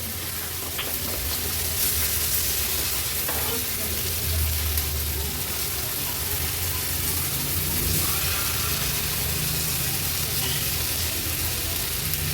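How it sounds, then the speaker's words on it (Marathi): Thick pieces of surmai (kingfish) fry in a well-heated pan with only a little oil, sizzling steadily and fairly loudly, with occasional light clinks as the pieces are turned over one by one. "आता एक एक करून ह्या तुकड्या आपल्याला पलटून घ्यायचे."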